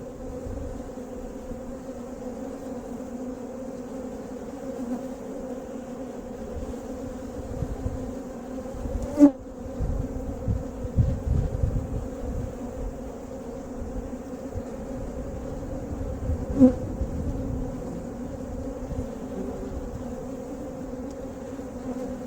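Honey bees swarm around an opened hive box during a hive split, a steady close buzzing hum with a few louder knocks and shuffles partway through.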